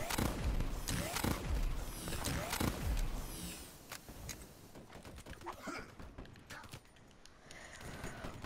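Rifle fire in Call of Duty Black Ops 3, a P-06 sniper match, with a burst of sharp rapid shots early on that thins into scattered quieter cracks and clatter.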